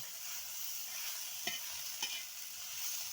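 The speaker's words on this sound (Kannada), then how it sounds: "ಆಮೇಲೆ ಇಷ್ಟು ಟಮಾಟಿ ಹುರ್ಕೊಳಕತ್ತೀನಿ ನೋಡ್ರಿ" Tomatoes frying in oil in a pan give a quiet, steady sizzle, with two brief clinks of a spoon against the pan, no voices.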